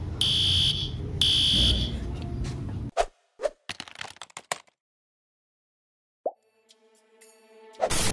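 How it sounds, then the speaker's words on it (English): A school fire alarm sounds in two loud, shrill electronic bursts, followed by clattering knocks, a near-silent gap, then a short tone and faint ringing at the end. "The principal said that someone pulled the fire alarm."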